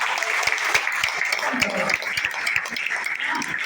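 An audience at a business-plan seminar claps steadily, with dense, sharp hand claps forming a continuous, fairly close burst of applause.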